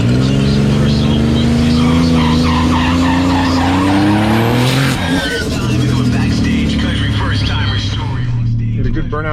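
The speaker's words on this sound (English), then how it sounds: "Get a good burnout over there." A drag racing car does a burnout, tires squealing and skidding over a loud, high-revving engine that holds steady and shifts pitch midway, close and continuous throughout.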